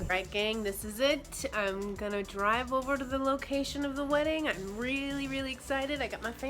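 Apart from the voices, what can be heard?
No everyday noises stand out.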